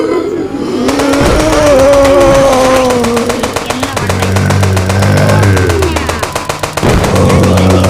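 Rapid gunfire rattles out in a loud, continuous stream in the Indian Bike Driving 3D game during a zombie mode, layered over engine noise and music with a voice talking.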